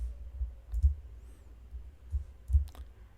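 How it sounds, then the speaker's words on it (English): A computer mouse is clicked while working in Microsoft Excel 2016, producing a few sharp, close clicks spaced irregularly against a quiet background, with no speech. "J Smith, I am clicking, then J Dorsey, I am clicking"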